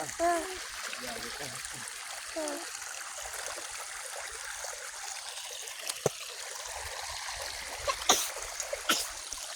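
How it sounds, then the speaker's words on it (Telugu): A small waterfall flows near a paddy field, a faint, steady rush and trickle of water, with voices briefly heard at the start and a few sharp knocks near the end. "చూడ కలర్ మొత్తం అక్కడికి వెళ్ళింది జలపాతం ఇది"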